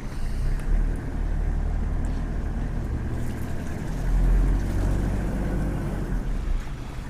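A 1992 Toyota Hiace diesel 4WD dual-cab fire truck driving, its steady low engine drone and road rumble continuous and close, swelling slightly midway.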